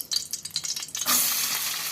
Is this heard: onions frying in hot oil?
yes